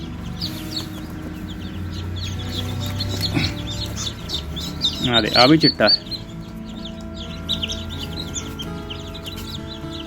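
Chickens cluck and squawk at a poultry farm where white chicks are hatching, a loud burst of flapping and squawking rising mid-clip over ongoing bird calls, with someone talking nearby.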